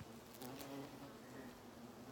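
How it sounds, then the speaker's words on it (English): Bees buzz around blooming wisteria on an April walk in the Sierra foothills, a steady, faint, continuous hum with no voices over it. "Look at all these bees."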